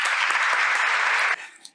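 Brief burst of applause sound effect, a dense steady clatter of many hands clapping, loud and close, cutting off abruptly near the end with a short tail.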